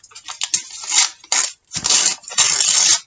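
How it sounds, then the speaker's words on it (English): Paper word ephemera for craft embellishments is torn by hand in several short ripping bursts, close and crisp, with brief pauses between tears. "Now you can tear them out"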